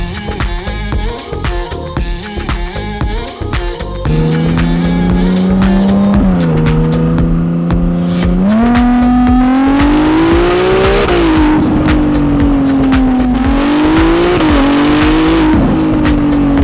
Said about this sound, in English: this exhaust you can really distinguish like a baby V12 sound